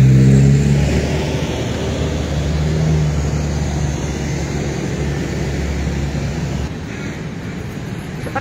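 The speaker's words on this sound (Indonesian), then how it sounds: "banyak mobil-mobil dan juga banyak pengendara motor yang melintas" Cars and motorcycles roll past at a busy roundabout in Banjarbaru on an evening, forming a steady, loud, close traffic rumble with engine drones that swell and fade as vehicles pass.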